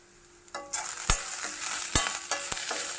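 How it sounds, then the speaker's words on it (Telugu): Onions and green chillies frying in a pan for a spinach and coconut fry, a sizzle that swells after a quiet start and then holds steady, punctuated by several crisp spatula knocks and scrapes. "దగ్గర దగ్గర ఉల్లిపాయలు వేగిపోయి కదా"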